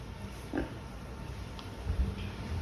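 Low grunts from weaned piglets and cull pigs, soft and a little distant, come in a couple of short bursts over a steady background hum.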